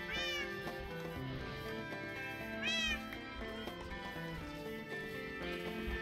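A cat in the Minecraft video game meows twice, clear rising calls a couple of seconds apart over quiet game background sounds, with no talking.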